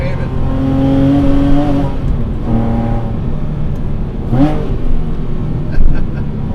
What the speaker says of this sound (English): it revs up so quick on the blips, you hardly have to give it any boot to get it to blip